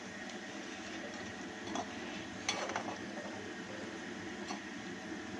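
Spinach pakoras fry in a pan of oil with a soft, steady sizzle, broken by a few light clinks and scrapes as they are turned.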